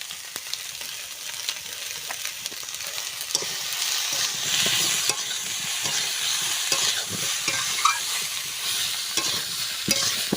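Vegetables with fried bori sautéed and stirred in a pan, producing a loud continuous sizzle with frequent scraping strokes of the spoon throughout.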